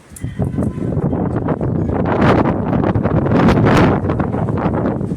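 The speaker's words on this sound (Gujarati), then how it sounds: "જો અવાજ કેવો આવે છે બારે. વાવાઝોડા જેવું છે." Strong, gusting storm wind with blowing dust roars steadily outside a house, buffeting close to the microphone with rushing surges and no pauses.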